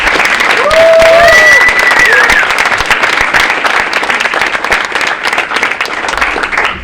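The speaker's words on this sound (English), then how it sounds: "can everyone please give a round of applause to Mr. Jones?" A crowd at a high school winter sports awards night gives a full round of applause, loud and sustained clapping with a few whoops rising above it, tapering slightly toward the end.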